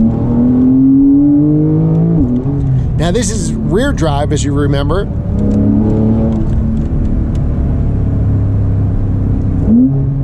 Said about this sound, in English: Sport Plus now. We got the exhaust the loudest